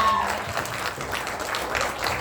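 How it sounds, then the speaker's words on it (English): Audience applause at a community theatre cabaret, a steady wash of clapping filling the whole stretch at moderate level, with faint voices mixed in underneath. "one more round of applause for Eve and Callum."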